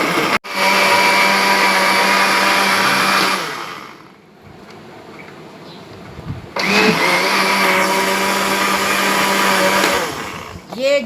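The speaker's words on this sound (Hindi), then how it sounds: "अब इसमें पहले मैं इसको ग्राइंड करूँगी थोड़ी देर के" Peaches with lemon grinding in a blender for juice, a loud whirring motor running in two bursts separated by a short quieter pause.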